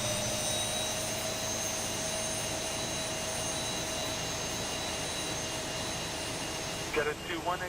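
An Air Canada 737 MAX airliner jet engine spooling up in the X-Plane 11 flight simulator, a steady whining roar with sustained high tonal hums, plus a few brief clicks near the end.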